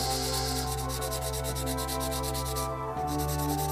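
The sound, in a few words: filing a plastic model part with a Japanese file (Yasuri no Oyaji)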